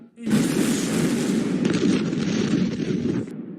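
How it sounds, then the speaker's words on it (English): Huge port explosion in Beirut, Lebanon, a sudden deep blast followed by a long, heavy rumbling roar that slowly fades, recorded from a distance. "2 enormous explosions shook Beirut, Lebanon today."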